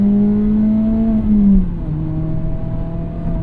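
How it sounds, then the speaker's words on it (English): A Mazda ND3 Miata engine revs up on snowy roads, holding a strong, steady tone before falling back as the revs drop, loud and close with no talk over it. "I can even go to red line while it's snowing."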